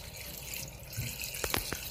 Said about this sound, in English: That's little bubbles that are working its way through the water.